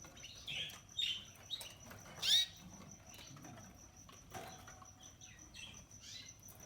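Young Border Fancy canaries calling in brief, high chirps and tweets scattered across a quiet room, a few sharper bursts standing out over faint background hiss, with no talking.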